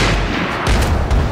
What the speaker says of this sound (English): I have to throw a grenade in there.